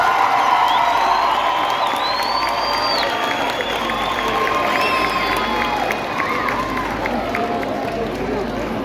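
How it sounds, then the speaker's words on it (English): Loud crowd noise at a Meyerton High School event welcoming minister Solly Malatsi, with cheering, whoops and shouting voices over a steady wash of clapping that continues throughout. "let's give him a warm round of applause"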